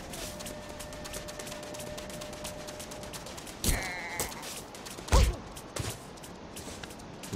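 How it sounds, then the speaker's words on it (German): Sheep bleating in the desert dunes of Super Mario Odyssey, a few short cries in the middle and later part, mixed with game effects over a steady background. "Falsche Richtung, du Schaf."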